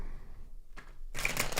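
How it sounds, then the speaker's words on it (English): Playing cards being shuffled, a short soft riffle followed by a brief pause and then a louder, denser burst of crisp card flutter close to the microphone. "That was a shit shuffle right there."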